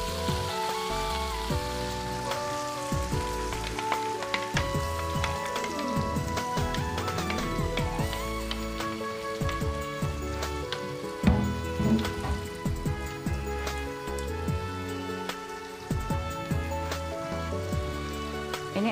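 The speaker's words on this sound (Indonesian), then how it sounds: "Ini akan saya tumis sampai dia harumnya keluar ya" Blended spice paste sautéing in a pan for crispy chicken with oyster-sauce sambal, a steady close sizzle and crackle running throughout with a busy, fairly loud texture and no talking.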